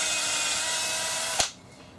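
A power drill bores a small hole through a wooden IKEA bed base foot, a loud steady whirring grind up close that cuts off abruptly with a sharp click just before the end.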